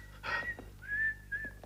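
Recorded whistling played back on a tape recorder in a 1985 Hungarian film: a few short, clear whistled phrases with a rising and steady tone, moderately loud, with no talking.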